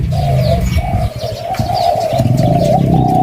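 A decoy dove used for trapping coos loudly and close, a repeated low, throaty call that keeps going with a soft chirp or two behind it.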